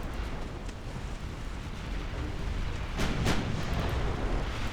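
Battleship Mecklenburg firing its big guns in Ultimate Admiral: Dreadnoughts, a rumbling naval battle bed with two sharp, close booming salvos near the end, one right after the other.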